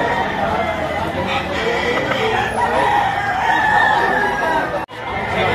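Roosters crow and hens cluck amid a noisy crowd of chattering people at a market auction, the birdcalls rising through the loud, busy background.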